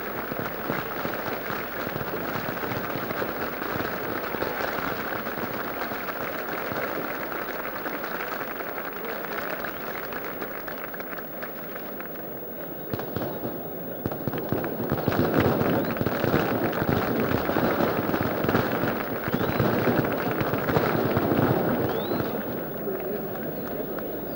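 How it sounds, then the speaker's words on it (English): Firecrackers crackle continuously around a football ground at a 1959 Peru versus England match, a dense, distant rattle mixed with crowd noise and steady commentary over the top. "And firecrackers go off all around the ground."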